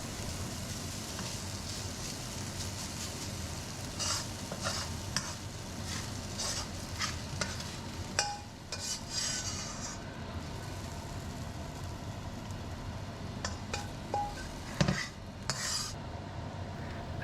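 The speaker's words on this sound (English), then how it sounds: "on a hot but not smoking pan, I cook my vegetables separately. And the first batch is the green onion and ginger" Green onion and ginger frying in a hot pan, a faint steady sizzle with light clinks and scrapes of a utensil against the pan, close and quiet, no voices.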